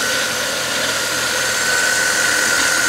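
A 48-volt DC micro-hydroelectric turbine generator, fed by flex hoses from a PVC pipe manifold, hums loud and close in a constant drone with a steady high whine and no pauses.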